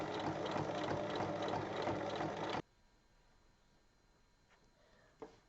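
A sewing machine stitches two fabric pieces placed right sides together along their full height for a bag, running as a steady close whir for about two and a half seconds before stopping, leaving near silence broken by a couple of small clicks.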